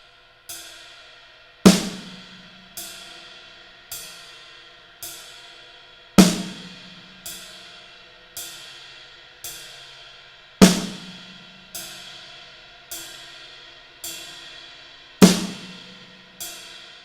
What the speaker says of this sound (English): now let's hear the ride and the snare drum together